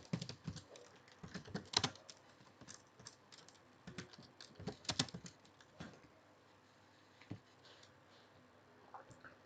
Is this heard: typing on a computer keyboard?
yes